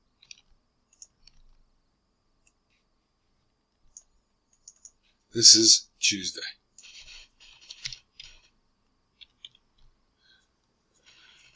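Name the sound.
typing on a computer keyboard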